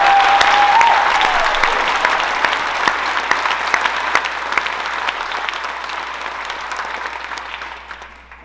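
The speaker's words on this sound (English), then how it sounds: "Please give these people a round of applause." Steady applause from an awards ceremony audience, dense and sustained at first, then slowly thinning and fading toward the end.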